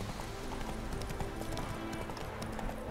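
Roach, the horse in The Witcher 3: Hearts of Stone, gallops with a rapid, steady clip-clop of hooves, loud and close, over a continuous bed of game ambience.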